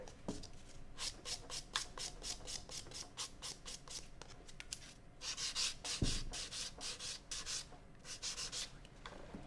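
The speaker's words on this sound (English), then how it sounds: "And buffing all the surface." Rapid repeated rasping strokes of a file buffer across an acrylic nail surface, close and soft, coming in quick bursts with brief pauses between them and no talking.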